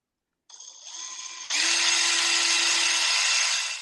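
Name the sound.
power drill drilling into wood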